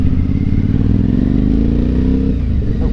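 An Aprilia Shiver 750 motorcycle rides through town, its engine close and loud with a steady throbbing rumble and a slight rise in pitch. No voice is heard.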